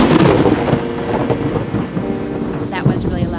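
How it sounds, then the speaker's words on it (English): Heavy thunder rumbles loudly over steady rain, with a sharper crack near the end; no voices. "That was really loud thunder."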